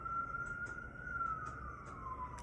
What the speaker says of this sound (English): As the ambulance passes by,